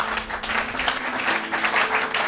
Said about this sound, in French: Acclamons le Seigneur pour cela.